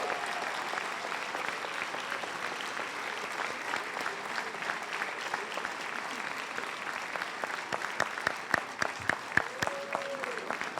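A school assembly audience applauds the graduating class of 2019 in a steady, dense wash of clapping that runs the whole length, with a few sharper, louder claps near the end and faint voices mixed in.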